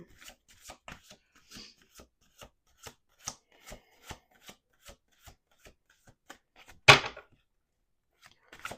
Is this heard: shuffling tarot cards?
yes